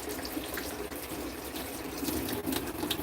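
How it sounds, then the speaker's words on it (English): Running water rinsing something off at a campfire cooking setup, a steady broadband splash and trickle that continues evenly throughout without pause. "Let's rinse this off."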